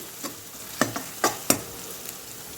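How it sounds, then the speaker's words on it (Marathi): Curry leaves fry with onion in a hot pan, giving a soft steady sizzle broken by a few sharp crackles and spoon scrapes, quiet and close with no voices. "कढीपत्ता पण आपण कांद्यासोबत मस्त फ्राय करून घेऊ"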